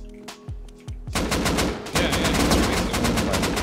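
Dense automatic gunfire in the survival game Rust during a base raid. It opens with a few separate shots, then becomes loud, sustained rapid bursts that fill most of the clip.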